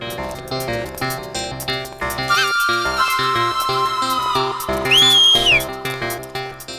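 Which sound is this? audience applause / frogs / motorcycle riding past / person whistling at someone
person whistling at someone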